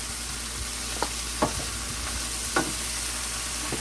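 Onions, okra, thinly cut potatoes and carrots sauté in a pan of hot oil, giving a steady broadband sizzle with a few sharper pops and stirring clicks.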